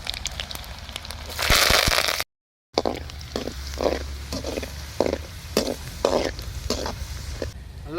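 Peeled garlic and curry leaves frying in hot oil for a sura fish pickle, a loud sizzling burst followed by intermittent crackling and stirring with a brief gap.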